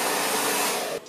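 A hair dryer blows on a man's hair, a loud, close, steady rushing whir that cuts off abruptly after about a second.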